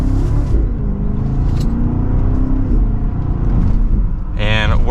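A 2024 BMW X5 M60i pulls hard from second gear, its engine building a loud, steady rumble heard from inside the cabin, with a voice talking over it.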